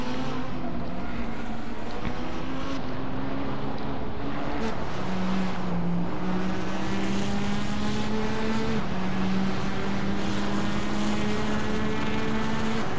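Race cars in a racing video game roar steadily with engines holding and shifting pitch, several cars close together, continuous and fairly loud throughout.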